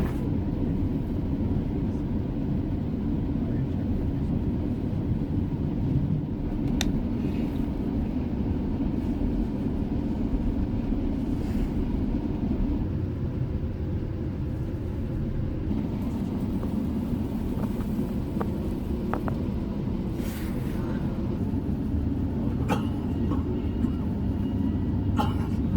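Inside a GO Transit double-decker commuter train, a steady low rumble and rolling drone of the moving carriage fill the whole stretch, with occasional faint clicks and rattles and a voice talking now and then underneath.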